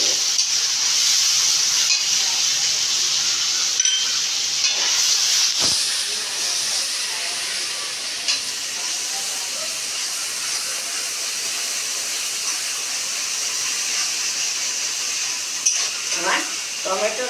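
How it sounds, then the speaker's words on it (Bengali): Tomato paste fries in a pan for kasoori paneer, giving off a steady, even sizzling hiss that continues throughout with a few faint clinks near the end. "এই টমেটো পেস্টটা আগে দিয়ে দেবো। দেখো টমেটো পেস্টটা একটু কষা হলে"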